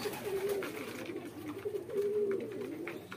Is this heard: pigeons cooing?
yes